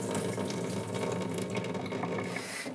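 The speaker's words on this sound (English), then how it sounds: "go and turn off the water." Water hisses and rushes steadily through household plumbing as the tap is shut off, a continuous close flow noise without talk.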